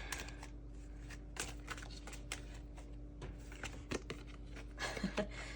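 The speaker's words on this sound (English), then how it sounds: "when I was kind of just, like, you know, shuffling over here or whatever" Tarot cards being shuffled by hand, a soft, irregular papery riffling and patter that runs through the whole stretch, close but quiet over a low steady background hum.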